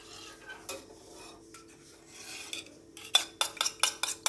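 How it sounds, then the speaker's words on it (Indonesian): A spoon stirs hot milk pudding mixed with margarine and egg yolk in a pot, with sparse scrapes at first and then a quick run of loud, rhythmic strokes against the pot. "Lalu kita aduk sampai tercampur merata."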